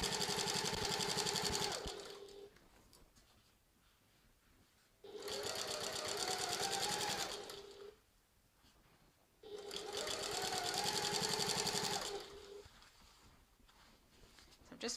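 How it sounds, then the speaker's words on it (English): Sewing machine stitching down the seam of a tote bag as the fabric is folded over along the way, running in three long loud bursts with quieter pauses between them. "Just folding as I sew along here."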